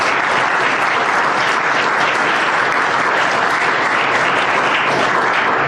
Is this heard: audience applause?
yes